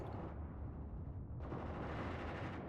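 Anti-tank rifle fire in the WW2 video game Mius Front comes as a dense, rumbling burst of battlefield gunfire, heavy and continuous with a sharp rise partway through, heard alone without talk.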